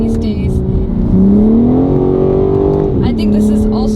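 A 2023 BMW M4 Competition revving loud and close, its engine note rising and holding steady before dropping back, with pops and burbles and a speaking voice over the engine.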